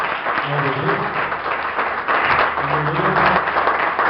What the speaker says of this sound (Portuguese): As palmas do Senhor mais uma vez.